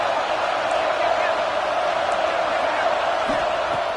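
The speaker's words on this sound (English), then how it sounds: "It's early, but this crowd is fired up. Listen to this noise here." Stadium crowd in the video game College Football 26, a steady loud roar of many voices filling the whole stretch without a break, with faint shouts rising within it.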